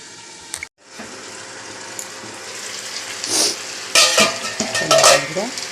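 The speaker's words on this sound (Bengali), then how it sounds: "আমি চাপা দিয়ে দিয়ে ভালো করে কষিয়ে নেব" Chicken kosha is stirred and pressed in an oily pan, a steady sizzle close by that grows louder and busier toward the end with scraping and bubbling bursts, following a brief silent gap.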